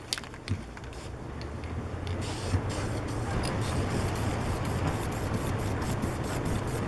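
A steady hissing spray of fast-drying semi-gloss clear polyurethane from a spray can runs for several seconds at close range onto a box, starting after a couple of faint clicks.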